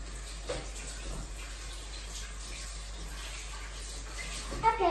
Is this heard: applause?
no